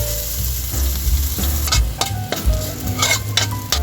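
Garlic sizzles in hot cooking oil in a frying pan, a steady close crackle broken by the scrape and clink of a spatula stirring it around, with no talking.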